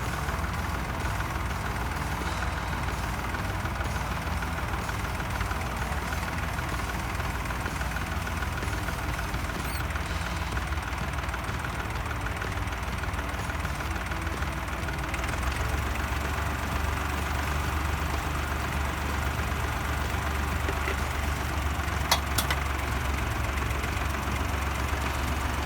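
A tractor engine idles steadily during its first hydraulic lift after bleeding the hydraulics, a low even rumble close by and unchanging throughout, with no voices.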